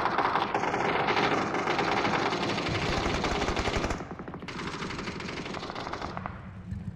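Rapid automatic gunfire aimed at a tank in PlayerUnknown's Battlegrounds, a loud, dense, continuous rattle that drops in level partway through and keeps going in shorter bursts to the end.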